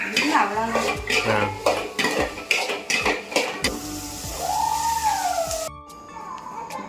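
A ladle stirs quickly in a metal cooking pot, giving rapid, loud, repeated clanks and scrapes for several seconds before the clatter stops and a quieter tonal tail follows.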